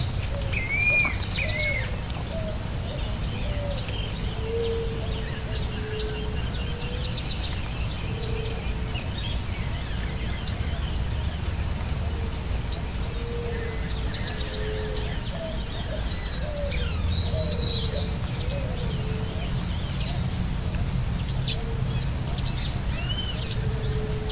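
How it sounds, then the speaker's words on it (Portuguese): Many birds sing together in the Caatinga after rain, a busy mix of chirps, whistles and cooing calls at varying distances, continuing steadily throughout with no talk. "muitas aves ao redor cantam, felizes com a chegada do inverno"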